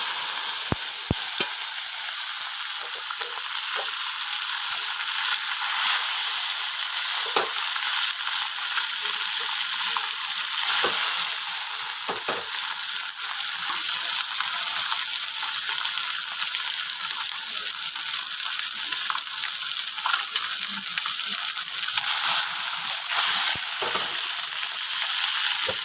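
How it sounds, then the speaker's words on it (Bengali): Moa fish rubbed with turmeric and salt fries in hot oil, a loud, steady crackling sizzle that continues throughout with occasional sharper pops, close up and without talk. "বন্ধুরা মাছটাকে আমি ভেজে নেব।"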